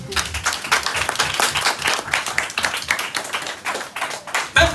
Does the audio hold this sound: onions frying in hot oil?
no